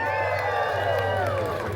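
Theatre audience at Disneyland breaking into applause and cheering on cue, a dense, steady wash of clapping and crowd noise with scattered voices throughout.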